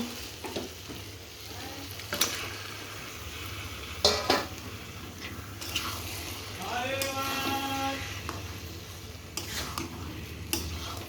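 Chicken pieces go into a hot pan for a Bengali tomato chicken curry, raising a steady close sizzle with bursts of stirring and clatter against the pan, with no talk over it.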